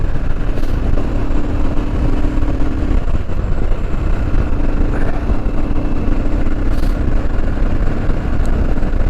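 A Royal Enfield Himalayan motorcycle on the road, with a steady engine drone and heavy wind rumble throughout and no speech, close and loud.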